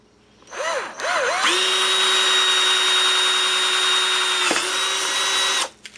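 A power drill whirs briefly twice, then runs at a steady high whine for about four seconds before stopping. It is close and loud, with no talking.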